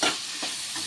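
Cabbage fry with chili powder gets stirred in a pan, a quick scrape and soft sizzle over under a second, close and clear with no talking.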